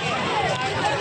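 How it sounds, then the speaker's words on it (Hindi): Dense crowd hubbub at a busy fair, a steady close babble of many voices with one nearer voice speaking over it. "और बहुत ज़्यादा भीड़ है"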